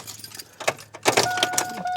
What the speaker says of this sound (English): Keys in the ignition